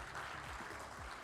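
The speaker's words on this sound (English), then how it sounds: "give him a round of applause, Mr. Dr. Professor Agustin." A crowd applauding steadily at a panel discussion, a dense wash of clapping hands that continues for the whole short stretch.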